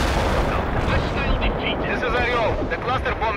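A heavy artillery strike in World In Conflict: Soviet Assault lands as loud, dense rumbling blasts and crackling impacts, with a radio voice briefly speaking over the barrage.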